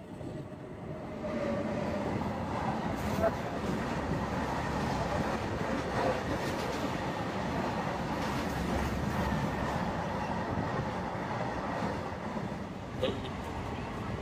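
Interior of the moving Kanchanjunga Express from Sealdah to Guwahati: a steady, dense rumble of wheels and carriage noise fills the whole stretch after a quieter start, with an occasional faint clank.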